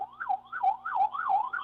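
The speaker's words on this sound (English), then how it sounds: "there's an ambulance coming" An ambulance siren wails outside in a steady rising-and-falling cycle, moderately distant and clear, with no talking over it.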